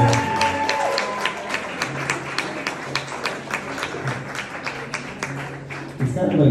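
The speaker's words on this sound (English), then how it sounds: "Big round of applause for Lisa again." An audience applauds for a performer named Lisa at a live comedy and music show, a dense patter of clapping that continues steadily across the whole stretch before easing near the end.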